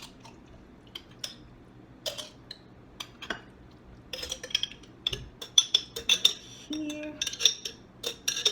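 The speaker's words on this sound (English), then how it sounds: "let's just give this a mix" A spoon clinks and scrapes inside a jar as halo-halo dessert ingredients are mixed, light taps at first and then faster rattling clatter, close and fairly soft.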